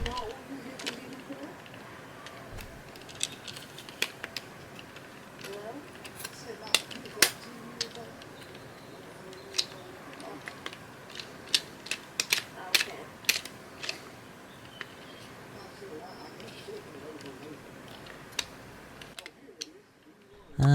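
A faulty PS4 DualShock 4 controller being handled rattles inside, giving scattered sharp plastic clicks and ticks at irregular intervals over a low background hum.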